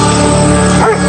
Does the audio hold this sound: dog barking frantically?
yes